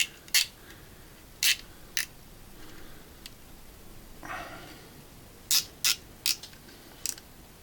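Screws being tightened on a quadcopter frame: short, sharp clicking and ratcheting bursts in small clusters, with quiet gaps and a soft scraping in between, close up.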